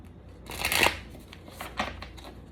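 A deck of tarot cards being shuffled in a close, crisp riffle with a second, softer flurry of card flicks after it, and nobody speaking.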